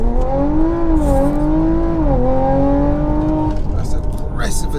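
A 504 bhp Audi RS5 launches hard, its engine droning loud and steady with rising harmonics that dip briefly as it shifts and pulls on, close and continuous throughout, over a low rumbling road roar.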